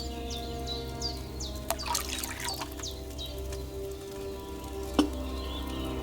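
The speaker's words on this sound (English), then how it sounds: "you have to pour the right base into the cauldron" Wine pours into a cauldron in the medieval game Kingdom Come Deliverance 2, a faint, steady trickle of liquid set against quiet background ambience with occasional bird chirps.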